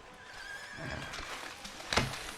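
A horse in Red Dead Redemption 2 gives a short whinny near the end, faint clip-clop and ambient noise underneath, fairly quiet and close.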